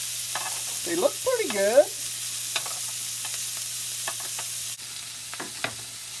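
Beef burger patties sizzle in a pan as they are flipped, a soft steady frying hiss with a few clicks and scrapes beneath a short stretch of talk.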